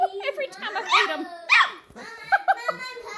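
Rough Collie puppies let out high yips, whimpers and small barks, close up and lively, mixed with a person's voice talking over them.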